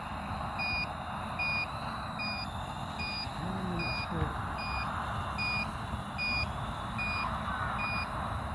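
A steady series of short, high electronic beeps from a Flywoo Warthox hex drone's low-battery alarm repeats at an even pace, about one per second, over a constant background hum.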